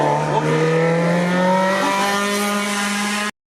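A Crack MT14 hill climb race car screams past at speed, its high engine note loud and close, the pitch sliding steadily downward before the sound cuts off abruptly.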